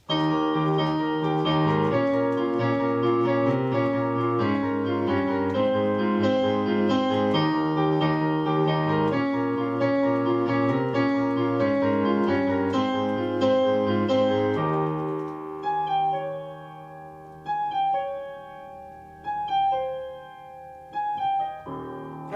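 A piano plays a song intro as a rhythmic, grooving passage with cleanly changed pedal and a busy low bass line under chords, then thins out into sparser, separated notes near the end.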